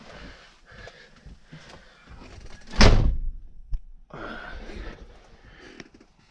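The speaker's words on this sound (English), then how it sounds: "So here I'm gonna shut the door" A Peterbilt 389 truck door shuts with a single loud, solid thunk, followed by a brief rattle and a faint hiss afterward.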